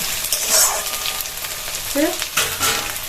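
Potatoes and finely chopped onions fry in a pan with a steady, close sizzle, broken by a few brief stirring scrapes and spatters.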